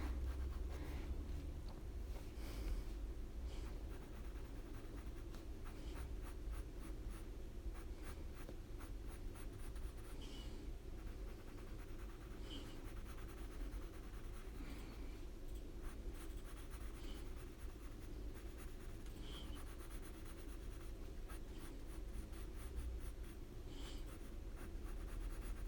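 Colored pencil drawing on paper, a continuous soft scratchy scribbling of the lead against the sheet heard up close, steady strokes with faint ticks, no speech.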